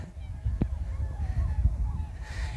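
Birds being scared off at a beach let out a few short honking calls amid wind and background bustle, fairly faint and brief, with people talking softly nearby.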